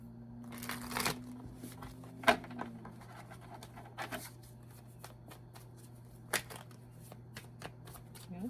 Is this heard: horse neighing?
no